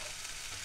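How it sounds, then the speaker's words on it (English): Black pepper beef stir-fries on a campstove with a continuous bright sizzle that holds steady through a very short moment. "Remember, this is stir frying and not stir boiling."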